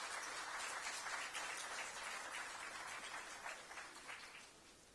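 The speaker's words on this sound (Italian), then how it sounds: "nostro formatore Angelo Acquafresca, a cui vorrei fare un applauso, che lo merita." A hall of delegates at a Fit-Cisl union assembly in Italy in 2015 applauds a trainer, a steady, fairly distant wash of clapping that fades slightly toward the end.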